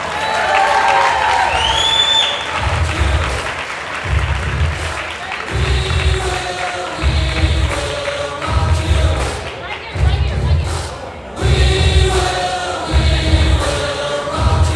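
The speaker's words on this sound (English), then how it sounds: "So please join me in giving Drew a heartfelt round of applause." Applause and cheering fill a large hall at an NAACP anniversary gala, loud and sustained, with thumping beats or stomps pulsing under the crowd noise throughout.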